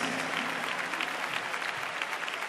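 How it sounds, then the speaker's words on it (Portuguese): A church congregation applauds during a service, dense continuous clapping filling the room at a steady level without pause. "vocês que podem louvar a Deus com as palmas"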